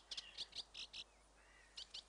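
A reed warbler in an English reed bank gives a quick run of five high, sharp chirps, then a pause and two more, close and clear against faint background hiss.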